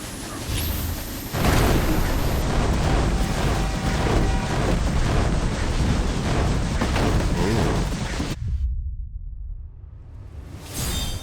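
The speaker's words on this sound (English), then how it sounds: "having that ending screen be the explosion" A big explosion in the video game Shinobi: Art of Vengeance on a speeding train level, a loud sustained roaring blast lasting several seconds before cutting abruptly to near silence, then a brief whoosh at the end.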